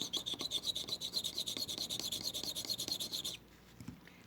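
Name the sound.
scratching jewelry on a test plate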